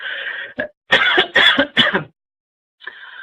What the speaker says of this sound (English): Excuse me, little cough.